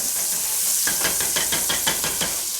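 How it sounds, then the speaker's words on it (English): Butter melts in a pan preheated over medium heat, giving a steady bright sizzle and hiss. A series of soft, evenly spaced taps runs through the second half. "we're just going to take our butter, put it in this pan that is preheated over medium heat"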